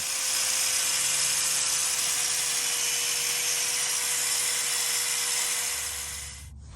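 A 4.5 inch angle grinder cuts through an old carrier bearing on a 1991 Audi 200 Turbo Quattro Avant, giving a loud, close, continuous high-pitched whine and grinding that winds down at the end.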